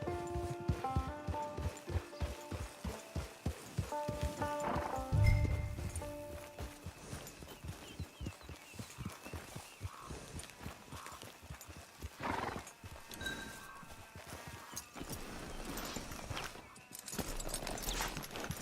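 Horse hooves clip-clopping at a walk with a whinny in Red Dead Redemption 2, heard up close. The hoofbeats are steady early on, a snort or neigh comes out, then quieter movement and ambient game sound follow.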